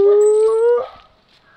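A dog gives a single loud, close howl: a long steady wavering note lasting under a second, which then fades into quiet.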